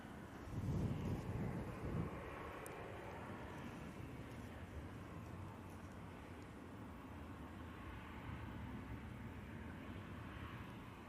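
A plane arriving to land on runway 05 right at Manchester Airport in breezy, gloomy weather, a steady distant jet roar mixed with wind buffeting on the microphone, swelling slightly at the start and then holding level.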